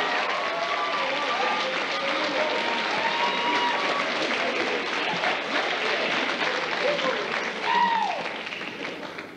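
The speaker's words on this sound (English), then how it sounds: "we all deserve a round of applause for this." Sustained applause from a crowd fills the space, dense and steady, with scattered voices and a few cheers rising through it.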